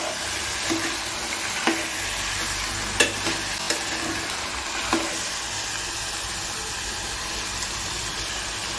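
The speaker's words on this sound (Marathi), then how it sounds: "आणि त्याला छान मिक्स करून घ्यायचंय." Pav bhaji mixture stirred and fried in a pan, a steady sizzle with occasional scraping clicks of the spoon against the metal, close and moderately quiet, no voices.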